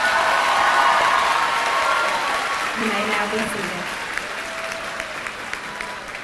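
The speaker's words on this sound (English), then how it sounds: "Please give this row a round of applause." Sustained crowd applause at a high school graduation ceremony in 2022, steady and broad, fading slightly as a voice speaks over it near the end.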